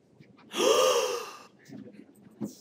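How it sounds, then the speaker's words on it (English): A single sharp, breathy gasp is recorded for an animatic audio track, one loud intake of breath followed by a few faint breaths and small sounds. "we have the gasp, so I'm going to go ahead and bring that in"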